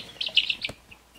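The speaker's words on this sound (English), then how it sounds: "It's a beautiful little bird." A young backyard chicken chick, dark-winged and healthy, gives a quick run of high, close peeping chirps, then fades to quiet with a faint last chirp.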